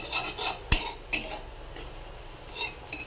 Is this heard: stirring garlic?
yes